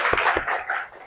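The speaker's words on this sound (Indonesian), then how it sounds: "Tepuk tangan dulu untuk kalian semua" Students clap briefly in a classroom, a short burst of close, bright clapping with a couple of sharper hits that fades within about a second.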